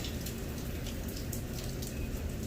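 Steady rain falls on a trail near Roosevelt Lake, Arizona, a constant close patter of drops on surfaces with no break and no voices.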